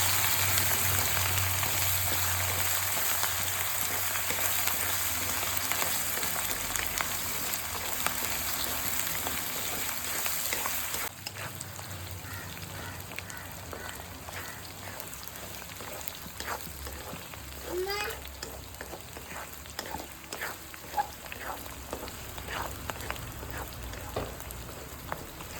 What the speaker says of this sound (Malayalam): നമുക്കിത് ഈ എണ്ണയിലേക്ക് ചേർത്ത് കൊടുക്കാം.